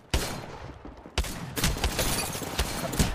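The Wingman pistol in Apex Legends fires several sharp, loud, close shots, spaced unevenly over a busy background of game noise.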